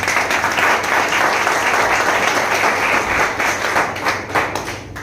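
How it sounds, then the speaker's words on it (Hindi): Audience at a business meeting or seminar breaking into applause, dense sustained clapping from a large crowd filling the room, loud and steady before tapering slightly at the end. "चलिए एक बार इनके लिए ताली बजा दीजिए।"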